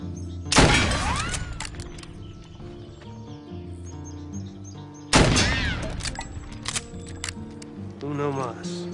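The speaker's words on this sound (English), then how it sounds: "Pretty straight shooting." Two sharp, loud gunshots ring out in a western gunfight scene, several seconds apart, each followed by a ringing echo and decay, with a musical score and people speaking throughout.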